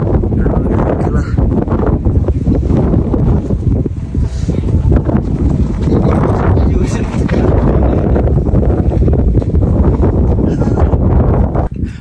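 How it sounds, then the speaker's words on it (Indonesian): Strong wind blasts across a mountain summit on the Karangan route to the top of Sulawesi, a loud continuous roar and buffeting rumble against the microphone that holds steady throughout. "udah angin dong"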